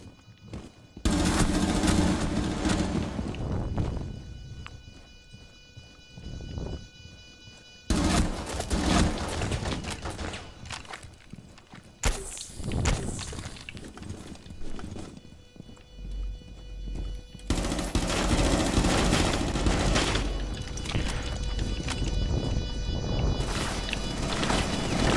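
Gunfire and other loud game effects come in several dense bursts over about twenty-five seconds in a competitive video game round. Brief quieter gaps separate the bursts, and no voices are heard.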